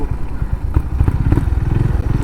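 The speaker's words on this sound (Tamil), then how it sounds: "இந்த வண்டியில் வேணால் உங்களுக்காக கொஞ்சம் ஆஃப் ரோட் பண்ணி காட்டுறேன்" A Honda CB350RS motorcycle riding off-road, its engine throbbing with a loud, close, rapid pulsing note, mixed with clatter and scraping from the rough ground, with no one talking.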